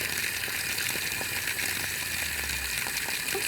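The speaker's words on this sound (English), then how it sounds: "I'm going to flush this by letting the water run 5 to 10 minutes." Water runs from an outside spigot to flush a well line before sampling, a steady continuous gush and splatter, close and even in level, with no voices over it.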